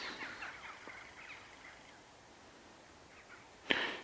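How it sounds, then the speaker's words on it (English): Faint, distant crows and jackdaws caw and chatter as they return to their roost by a loch in winter, over a quiet outdoor background, followed by a single sharp click near the end. "It's wonderful listening to the crows and the jackdaws return to their roost"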